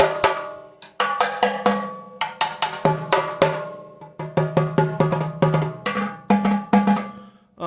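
A run of homemade octoban drums made from clear plastic tubing, struck one after another in quick, uneven bursts, each hit ringing briefly with a hollow, pitched tone; close and fairly loud, no talking.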